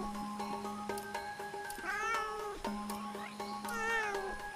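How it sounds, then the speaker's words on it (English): A video game cat meows twice in Kena: Bridge of Spirits, each a clear, drawn-out, rising and falling call over a steady game tone and quiet ambience. "It meows!"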